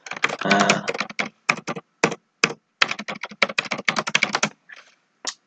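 Someone types a text message on a computer keyboard nearby, producing quick bursts of clicking keystrokes separated by short pauses, with no talking.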